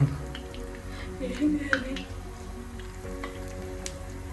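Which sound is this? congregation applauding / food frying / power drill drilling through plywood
food frying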